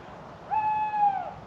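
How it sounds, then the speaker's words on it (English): A tawny owl in autumn woods gives a single drawn-out hoot, a clear, steady tone with a gentle rise and fall, heard alone over a quiet background hiss. "The old tawny owl. An ancient sound, that."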